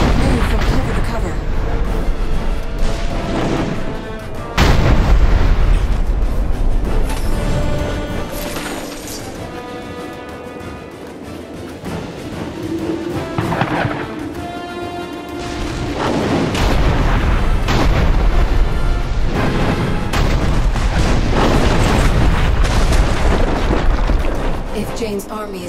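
Enemy Azunet gunners firing artillery in Dungeon Siege III, with repeated heavy booms and crashing impacts mixed with game music and effects, loud and continuous throughout the battle.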